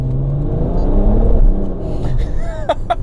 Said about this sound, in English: There's more road noise here than there would be in a new BMW